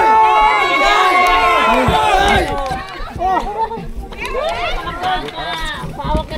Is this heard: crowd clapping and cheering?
yes